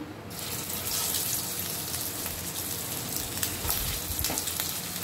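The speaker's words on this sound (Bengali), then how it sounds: "একে আমি কাবাবগুলো এক এক করে ছেড়ে দিলাম, ভেজে নেব।" Minced mutton shami kebabs drop into hot oil and fry with a steady, even sizzling hiss that starts abruptly and continues close and unbroken.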